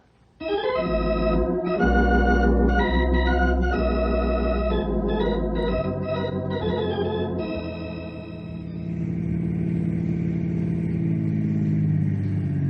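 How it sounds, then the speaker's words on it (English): A car engine cranks and catches with a loud throbbing roar, then settles into a steady running hum that shifts pitch as the car pulls away, all under an unbroken sound effect in a radio drama. "Let's get in the car."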